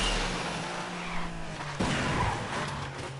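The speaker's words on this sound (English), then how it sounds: "Crashing into the wall." A Need for Speed car roars and skids with a brief tire squeal, then hits a wall with a sudden loud thud around the middle, followed by a rougher engine wash.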